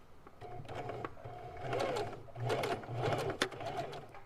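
A sewing machine back stitching a fabric face mask runs in steady rhythmic bursts, stopping briefly and restarting several times, close and fairly loud with no voices.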